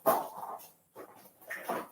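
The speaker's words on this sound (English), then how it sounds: "Dog, why are you out here?" A dog gives a few short yips and whimpering barks, close by, in three brief bursts separated by quiet gaps.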